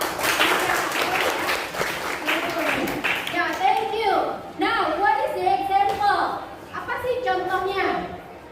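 A group of children in a classroom claps together for a few seconds, then young voices talk over the fading applause.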